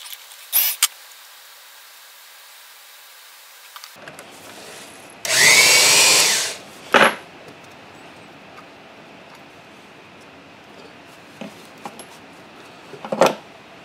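A number 19 drill bit whirs loudly for about two seconds drilling metal parts for a ball turner, bracketed by a few sharp clanks and taps of metal in an otherwise quiet workshop.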